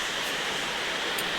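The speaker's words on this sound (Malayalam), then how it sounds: "അയ്യോ മഴ പൊടിക്കുന്നു, ഞാൻ അകത്തോട്ട് കയറാൻ പോവുകയാണ് കേട്ടോ" Steady rain falls outside as a continuous, even hiss with no breaks, moderately loud and without voices.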